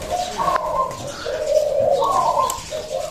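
A dove coos in a low, rolling rhythm, several soft repeated phrases close by over faint background noise.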